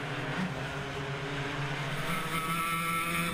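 Club100 racing karts scream around the Glan Y Gors circuit during a sprint championship heat, a steady, loud, continuous engine drone with pitch rising and falling, close and unbroken throughout.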